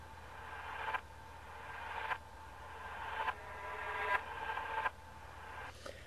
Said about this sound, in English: Here we've got a reverb backwards kind of cymbal sound here.